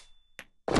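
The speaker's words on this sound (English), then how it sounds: "Throwing grenade." A grenade is thrown in the mobile shooter Forward Assault, heard as a soft thunk followed by a louder, close, broadband burst at the end.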